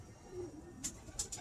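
A pigeon in a loft gives a short, soft coo, faint and somewhat distant over low background hum, followed by a few brief rustles.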